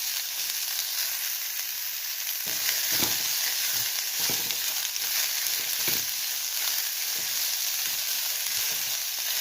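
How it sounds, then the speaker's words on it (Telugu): Onion pieces fry in hot oil with a steady, close sizzle and occasional soft stirring scrapes, no voices. "ఇంకా నూనె వేసుకొని ఉల్లిపాయ ముక్కలు వేసేయాలి"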